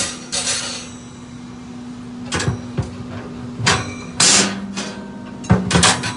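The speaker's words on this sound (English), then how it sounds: "we're gonna go ahead and put in all of the regular grates inside the Yoder smoker YS640." Metal grates are set into a Yoder YS640 steel smoker, several sharp clanks and scrapes spaced a second or so apart over a steady electrical hum, close by.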